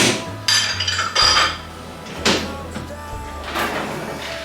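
Dishes and cutlery clatter and clink as they are taken out of a loaded dishwasher in a home kitchen, in irregular close clanks and scrapes with a few heavier knocks.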